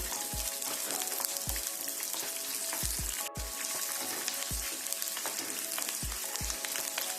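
Lentils, cumin and green chilies frying in hot oil in a pan, a steady dense sizzle throughout with occasional soft stirring knocks, close up, no talking.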